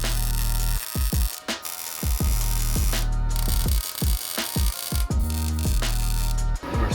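A trailer tongue extension is tack welded to an off-road trailer, short bursts of crackling arc welding separated by brief pauses, several quick tacks over a steady hum.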